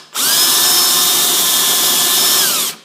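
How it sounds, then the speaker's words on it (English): A power drill with a step bit whines loudly and steadily for a few seconds while drilling through conduit, close by, with a sharp start and a clean stop, no voices. "I'm just going to use a step drill to go through that. Just drilling through conduit."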